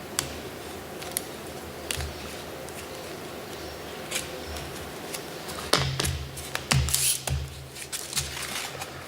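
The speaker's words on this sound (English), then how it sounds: "And maybe just cut this end bit out." Scissors cut the end off a strip of tape on a Depron foam model aircraft control surface, giving a few sharp snips and crinkly rustles, close and quiet, with no talk.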